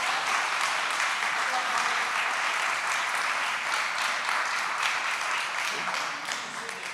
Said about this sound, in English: a round of applause for Mr. Berlanga